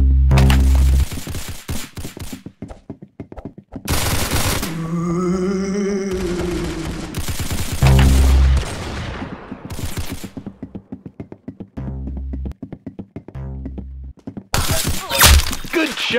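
Gunshots in the Roblox game Arsenal: sharp, loud cracks, some in quick rapid runs and others spaced apart, broken by short bursts of other game sounds, with no voices.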